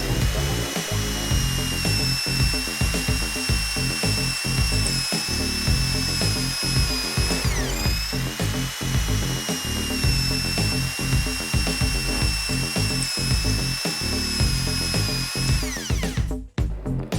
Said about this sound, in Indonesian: pengeboran menggunakan mini drill